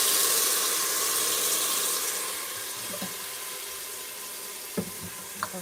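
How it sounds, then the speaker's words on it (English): Water runs and splashes steadily into a heated pot of stew in a home kitchen, a continuous hissy pour that fades slightly, followed by a few soft clinks near the end. "put a little bit of water"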